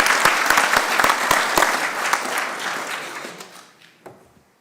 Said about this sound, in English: let's give him a short applause because he also achieved graduation